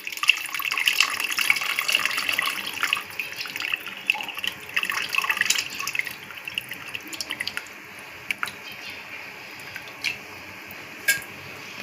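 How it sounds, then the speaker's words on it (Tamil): Water pours and splashes steadily into a cooking pot, then thins to scattered drips and small splashes toward the end. "இப்போது தேவையான அளவு தண்ணியை ஊற்றிக்கலாம்."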